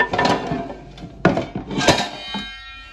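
A metal frying pan is picked up and handled in a home kitchen, giving several clanks and knocks of varying loudness spread across a few seconds, alone without talk.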